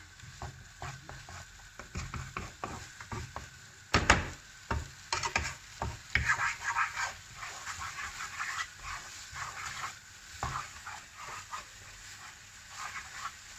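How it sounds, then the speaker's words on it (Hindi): A spoon stirs spice masala in a pan while preparing a spinach (palak) curry, with irregular scraping strokes and faint sizzling. Sharper clacks cluster near the middle, all at close range with no talking. "अब इन मसालों को अच्छे से मिक्स कर लेंगे।"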